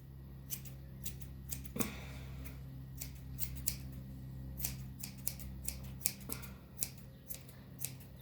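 Blunt grooming scissors snip at a dog's facial fur in a quick, irregular series of crisp, close clicks, some closely grouped and others spaced out, over a quiet background.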